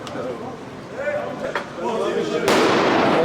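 Firecrackers going off at a football stadium during a Dynamo Kiev vs Fenerbahce match, sharp booming bursts with one loud blast near the end, mixed with crowd noise and people talking nearby.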